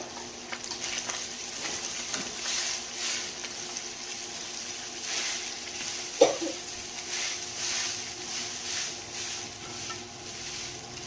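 Rice frying in a pan for a morning breakfast, a steady soft sizzle running throughout with faint stirring scrapes and one brief sharp clink midway, fairly quiet and with no talking.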